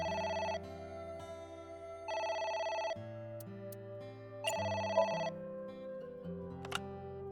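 A phone rings in AI: The Somnium Files, with three quiet bursts of ringing spaced a couple of seconds apart over a soft game music backdrop and no talking.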